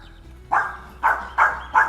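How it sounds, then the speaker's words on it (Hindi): A dog outside a house barks in four short, fairly loud yelps at irregular intervals after a brief quiet start. "बदतमीज ही है यार, ऐसे कौन भौंकता है"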